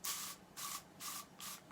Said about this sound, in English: I'm just gonna spray some of this pledge stuff,